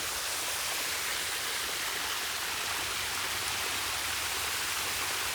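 Irrigation water flows through a field of winter maize, making a dense, even rushing wash that stays constant and fairly loud from start to finish, with no voices.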